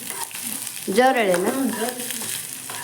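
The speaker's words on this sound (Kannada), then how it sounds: "ಇವನ್ನ ಹೆಂಗೆ ಹುರಿದ್ ನಾನು ನೋಡ್ರಿ" Chutney ingredients frying in oil give a continuous, close sizzle, with a voice speaking briefly over it.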